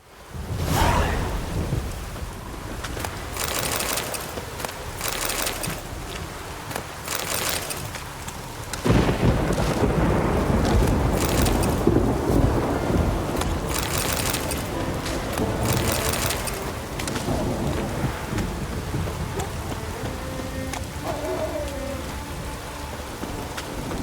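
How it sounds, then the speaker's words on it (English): Rolling thunder and steady heavy rain from a storm in the video game The Witcher 3, with a sharp thunderclap near the start and a louder downpour surging midway, continuing densely to the end. "After a storm of those proportions"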